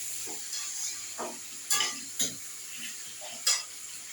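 Chopped bottle gourd frying in a pan for a shrimp dish, soft sizzle beneath a few sharp scrapes and clinks of a spatula stirring against the pan, close and fairly quiet.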